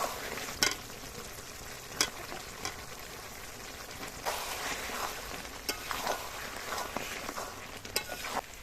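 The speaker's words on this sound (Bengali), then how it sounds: "এবার ভেজে রাখা আলুটা দিয়ে দেবো।" Fried potatoes go into a pan of mutton curry and are stirred, giving a soft frying sizzle broken by repeated sharp scrapes and clacks of a spoon against the pan, with no one speaking.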